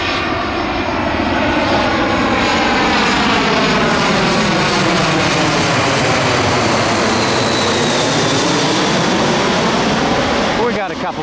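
A fixed-wing airplane flies near Tampa International Airport, its loud engine roar steady and close throughout, with a rising-falling pitch sweep as it passes.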